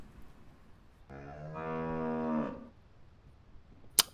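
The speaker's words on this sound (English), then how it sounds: "Moo indeed." A cow gives one long, loud moo lasting over a second, rising slightly in pitch before fading, with a faint click at the end.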